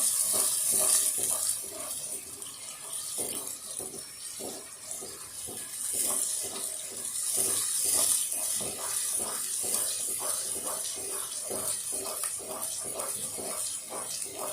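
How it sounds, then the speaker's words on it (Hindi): Garlic and ginger sautéing in a pan for a Hyderabadi lauki chana daal, a steady close sizzle broken by repeated scraping and stirring strokes, with no voices. "अभी हमारा जो है लहसुन अदरक थोड़ा सा सौते हो जाए"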